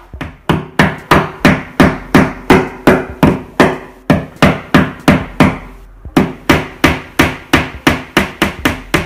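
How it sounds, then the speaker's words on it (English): Steady hammer blows drive a nail into a wall, sharp rhythmic knocks in quick succession with a brief pause partway, close and loud with no talking. "next you get your hammer, you get your nail"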